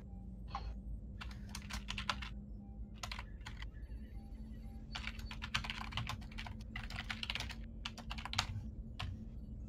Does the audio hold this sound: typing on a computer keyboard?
yes